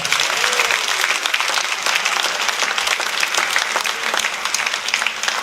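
A congregation at a Sunday church service applauds steadily, a loud, continuous wash of many hands clapping that fills the room without a break.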